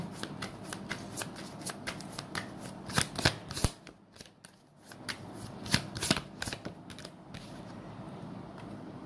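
Tarot cards shuffled and drawn by hand, close and quiet, with repeated crisp riffling bursts and soft slaps in an uneven rhythm, a short lull midway, and no speech.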